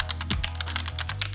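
Rapid typing on a Logitech MX Mechanical Mini keyboard with tactile switches: a steady run of crisp, close clicks at an even pace, with no voices.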